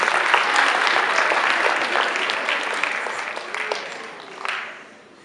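An audience applauds Madame at a world-tales storytelling performance, a dense, steady wash of clapping that swells briefly near the end before tapering off.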